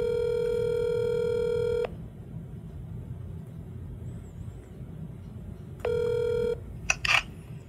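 A phone ringback tone sounds steadily for about two seconds, then a quiet gap, then another burst of the ring tone begins before being cut off by a brief click and rustle.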